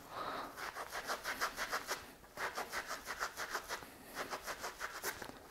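Gong flumi mallet scrubbed dry, quiet rhythmic scratchy rubbing strokes in short bursts, close but faint, with no talk.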